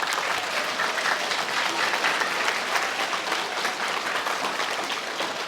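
Students at an elementary school award ceremony applaud their teachers, a dense, steady wash of many hands clapping at a constant loud level throughout, with no talking.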